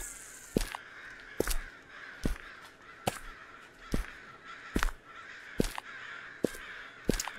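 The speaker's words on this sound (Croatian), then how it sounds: "čujem vranetine" Crows caw in the Japanese video game Okaeri, a run of about nine harsh, evenly spaced calls over a faint ambient background.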